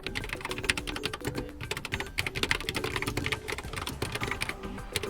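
Typing on a Xiaomi wireless keyboard, keys clattering in a dense, steady run of close clicks and taps that keeps on for several seconds with no voices.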